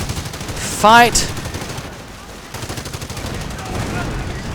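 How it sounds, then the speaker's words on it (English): Heavy machine guns fire in a World War II strategy game battle, a loud burst of rapid gunfire near the start followed by continued distant shooting, with a voice talking over the action. "Heavy machine guns firing as if though it was a World War I"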